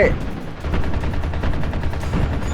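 Sustained automatic gunfire aimed at enemy armor in the video game Ghost Recon Advanced Warfighter 2 on PS3, a loud rapid rattle of shots with heavy low-end rumble throughout.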